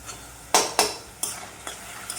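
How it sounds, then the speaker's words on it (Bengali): A spice paste of coriander, chilli, cumin and turmeric powders mixed with water is fried with ginger paste for aloo dum, heard as several quick stirring strokes, each bringing a short burst of sizzle over a quiet background. "আদা বাটা দিয়ে মশলাটা কষছি"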